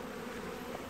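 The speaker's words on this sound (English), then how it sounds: "Look at the clump of bees there." Honey bees buzz steadily in a dense, continuous drone close by at a hive with honey supers and bee escapes.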